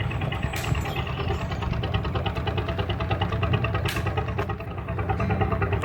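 A narrowboat's diesel engine idles with a steady, chugging rumble and rhythmic thumping throughout, fairly close and continuous.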